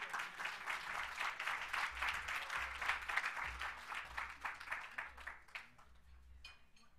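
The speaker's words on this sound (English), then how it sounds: "Give Michael another round of applause." Audience at an award ceremony applauding steadily, a dense wash of clapping for several seconds that thins out toward the end, with faint voices beneath.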